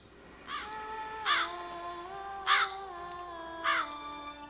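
A raven in The Witcher 3 caws four times in evenly spaced, harsh croaks, clear and fairly close, over a quiet game ambience with no talking.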